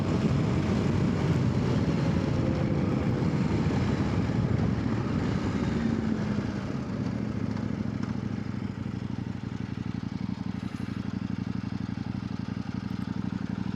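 A Kove 800X Rally adventure motorcycle runs steadily while being ridden along a rutted dirt path, its engine a continuous close drone that eases slightly in pitch midway with a constant wash of riding noise.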